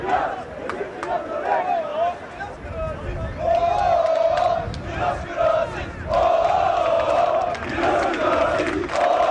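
Fenerbahçe football fans at the Samandıra training ground loudly chant in unison for the team's youngest player, a dense, rhythmic crowd roar with swelling, repeated shouted phrases.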